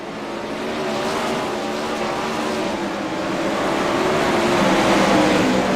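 Wingless sprint cars race side by side in the iRacing sim, their engines a steady, loud, rising drone with faint tire scrub throughout.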